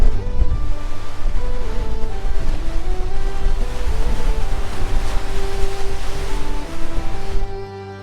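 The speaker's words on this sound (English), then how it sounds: "enough of the wind and the rough waters" Strong wind buffets the microphone on the rough-water shore at Eastern Point near St. John's, Newfoundland, with a loud, continuous low roar and waves churning underneath throughout.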